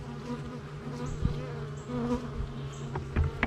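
Honey bees drawing comb inside a nuc hive buzz in a close, continuous drone, with individual wingbeats rising and fading around it.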